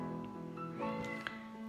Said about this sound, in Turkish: Bizimki gene miyavlıyor.